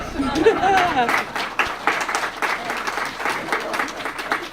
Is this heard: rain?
no